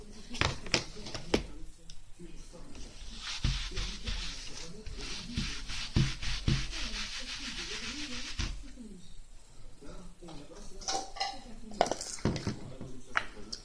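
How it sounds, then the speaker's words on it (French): Rubber stamps being cleaned right after use in a craft session make repeated rubbing and scrubbing sounds with light clinks and taps, close by, with a voice at times. "J'aime bien venir nettoyer tout de suite mes tampons, moi, parce qu'autrement, c'est un peu cradoc."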